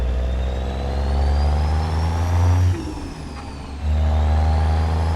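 A CAT 3176A diesel truck engine in a trucking simulation drones with a steady low rumble and a slowly rising pitch. It drops off briefly, as if easing off or shifting, then comes back strong. No voices.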